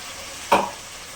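A spice paste of ginger, garlic, chilli, coriander and cumin with tomato sizzles in a pan for a fish curry, a single brief stir and hiss rising out of a faint background.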